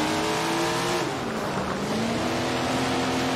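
A sprint car's engine roars continuously in a racing video game, the loud revving sustained throughout with pitch dipping and rising again as it works through a turn.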